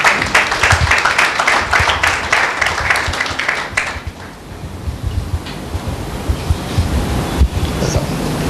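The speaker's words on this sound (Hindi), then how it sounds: "एक जोरदार ताली परमेश्वर की महिमा में देंगे" Loud, dense applause from a church congregation at a Sunday meeting fills the first four seconds, then fades to scattered claps and a low murmur of the room.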